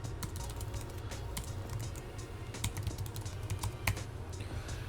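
Typing on a computer keyboard, quick irregular clicks of keys tapped close by in a quiet room, with no talking.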